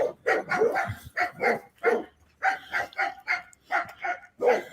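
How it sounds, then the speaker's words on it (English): Dogs bark repeatedly in an alley, a run of sharp, closely spaced barks with brief gaps between bursts, fairly near and loud. "it was probably the same type of dogs barking"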